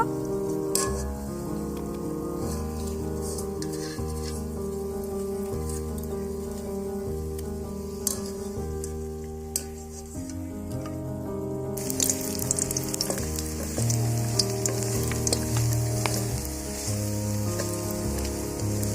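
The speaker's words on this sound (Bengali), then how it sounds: "এখনো ভাজা হয়নি, একটু হালকা লালচে ভাব এসেছে, আর একটু লালচে করে বড়াটা ভাজতে হবে" Puffed rice fritters (khoi bora), still only lightly browned, fry in oil with a continuous rain-like sizzle beneath loud background music.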